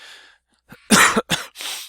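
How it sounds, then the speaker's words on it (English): A single person coughs a few times in quick succession, close up, with a short breath before. "sorry to cough there"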